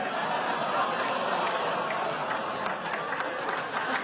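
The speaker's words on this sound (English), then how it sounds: "Some applause." Studio audience at a sketch comedy show applauding, a steady wash of clapping mixed with some chuckles, moderately distant and sustained throughout.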